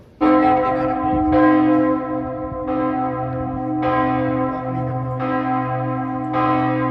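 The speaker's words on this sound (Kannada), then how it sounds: "ಅಲ್ಲಿ ನೀವು ನೋಡ್ಬೋದು ರಿಂಗ್ ಆಗ್ತದೆ ಬೆಲ್ಲು" A deep, resonant church bell tolls six times at a slow, steady pace, each stroke ringing out and overlapping the fading hum of the last.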